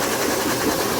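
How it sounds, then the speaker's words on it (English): A dog grooming blower running at full blast makes a loud, steady, close rushing roar that holds without a break for about a second. "I used the blower on her"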